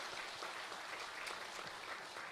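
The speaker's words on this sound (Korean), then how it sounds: "우리 다시 한번 박수 한번 해주시죠" A church congregation applauds its choir, conductor and accompanist at a Sunday worship service: a steady, dense wash of many hands clapping, soft and somewhat distant, with no break for the whole stretch.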